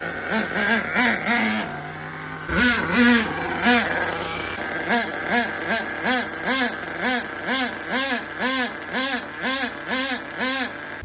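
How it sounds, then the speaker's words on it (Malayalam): Motor of an HPI Savage RC car revving in repeated short bursts on a test drive, a rhythmic series of rising and falling whines, loud and close, after a brief pause near the start. "അപ്പോൾ നമുക്ക് വണ്ടി ഒന്ന് ജസ്റ്റ് ഒന്ന് ഓടിച്ചു നോക്കാം."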